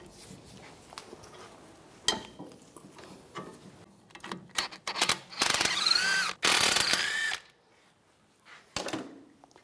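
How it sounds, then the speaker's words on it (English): Ratchet with a 17mm socket working caliper bolts on a 2011-2019 Ford Explorer, heard as quiet ticking clicks that build to two loud, sustained mechanical bursts, then a few sharp clicks near the end. "Take these two caliper bolts off, use a 17mm socket."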